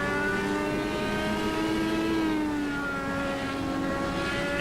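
Indy car engine in a sim racing game at Sonoma, a loud continuous engine drone whose pitch sags and then climbs as the car accelerates through the gears, alone with no talking.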